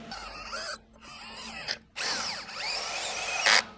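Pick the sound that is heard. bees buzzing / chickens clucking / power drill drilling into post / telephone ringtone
power drill drilling into post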